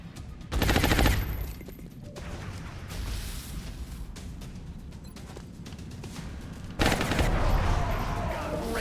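Gunfire in the turn-based strategy game XCOM: Enemy Unknown, two loud rapid automatic bursts from a gunner soldier, one near the start and one later, separated by a stretch of quieter battlefield ambience.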